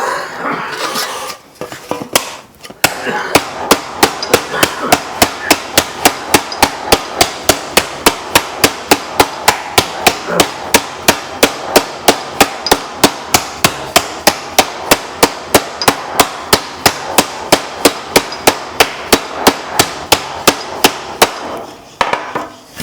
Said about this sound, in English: I'm going to use the shot bag to get my basic shape, and then I'm going to use this,